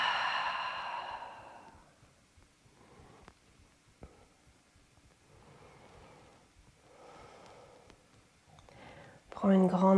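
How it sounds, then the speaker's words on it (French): Slow guided breathing exercise, a long breath drawn in through the nose and then released through the mouth, soft airy sighs close to the mic, repeated in quiet cycles with a louder exhale at the end. "Ouvre la bouche et expire."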